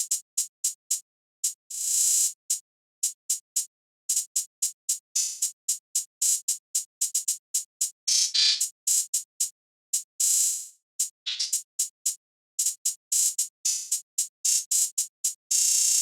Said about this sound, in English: the finished hi-hat pattern is sounding like this.